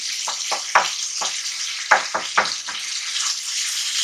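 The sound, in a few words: stirring chicken karahi masala with wooden spoon in non-stick pan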